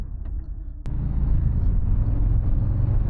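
A 2024 Harley-Davidson Low Rider S motorcycle starts quiet, then its engine jumps into a loud, deep, rumbling pull that holds strong and steady as the bike accelerates.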